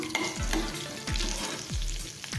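Asafoetida, cumin and bay leaf sizzle in hot oil for matar paneer. The oil crackles steadily while three rhythmic stirring strokes scrape the pan, close up and alone.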